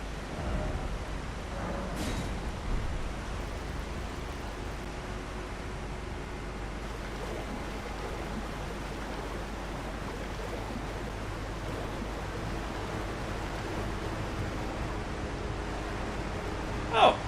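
A waterfall in Elden Ring rushes as a steady, broadband roar of falling water that carries evenly through the whole stretch, with a few brief soft knocks from play over it.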